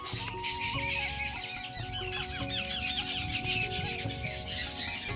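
Myna birds call nearby in a busy mix of squawks, chirps and whistling notes, continuous and fairly loud with no voices.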